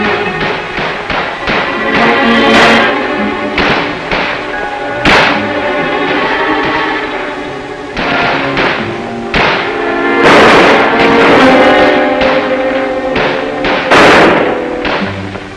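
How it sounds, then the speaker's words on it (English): Blank ammunition gunfire during a 1960s army infantry training exercise, a steady stream of sharp rifle cracks and thuds, some near and some farther off, over continuous background noise. "It was blank ammunition, of course, but everything else about this exercise was strong on realism."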